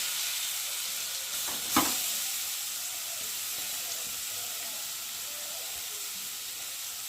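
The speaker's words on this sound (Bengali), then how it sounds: "তো তেলটা গরম হয়ে গেছে, আর এখন আমি একে একে গাজরগুলোকে দিয়ে ভেজে নেব।" Carrots frying in hot white oil on a griddle give an even, soft hissing sizzle throughout, broken by a single brief knock early on.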